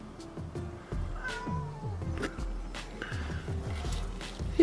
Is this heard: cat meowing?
yes